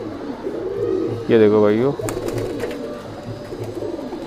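Madrasi pigeon pair cooing close by, one clear warbling coo rising over a steady background hum while someone speaks briefly in Hindi.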